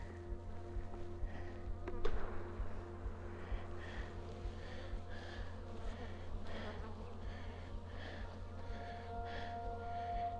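Honey bees buzz in a low, steady drone around an open hive during an inspection. The hum is faint and continuous, with a brief knock near the start.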